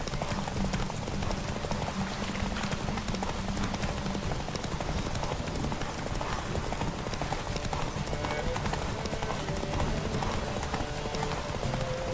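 A horse gallops in the video game The Witcher 3, rapid rhythmic hoofbeats pounding continuously at close range over a dense background of game ambience and faint voices.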